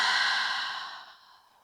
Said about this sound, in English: Exhale, release it out.